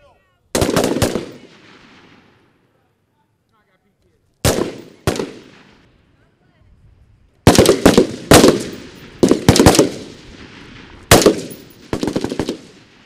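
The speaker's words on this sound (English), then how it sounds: "You're gonna fire at the same target." Rifles fire at an outdoor firing range in sharp bursts and single loud shots, separated by quiet gaps, with several rapid reports clustered toward the end.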